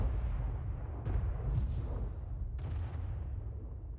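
Artillery fire in World of Tanks from an SU-8 self-propelled gun: a deep, rumbling boom with a couple of sharp cracking bursts layered over continuous low battlefield noise, no talk.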